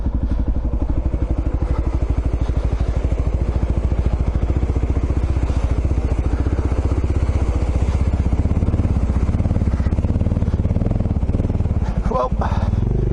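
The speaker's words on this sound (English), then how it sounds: "I got a couple of other motorbikes." Motorbikes riding on sand at Little Desert National Park, a continuous close engine chug with rhythmic pulsing and occasional clattering thumps throughout.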